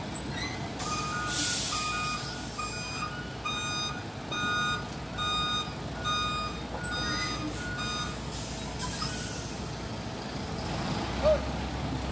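A MAN TGS 40.440 6x6 truck backing into a tight parking spot, its reversing alarm beeping in a steady repeating series over a low idling engine rumble, with a brief air-brake hiss and a voice faintly heard nearby.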